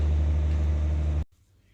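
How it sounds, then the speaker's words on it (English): Electricity generator droning below a hotel balcony in Beirut, a steady loud low rumble that cuts off abruptly near the end, leaving faint background noise. "this is the sound of electricity generator"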